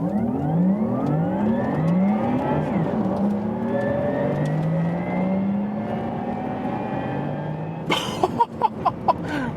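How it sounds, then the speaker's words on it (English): Porsche Taycan GTS electric car launching hard on a racetrack on Majorca, a rising electric motor whine sweeping up in pitch through the acceleration, then a burst of short sharp knocks near the end. "the Porsche Taycan GTS. Launch control here."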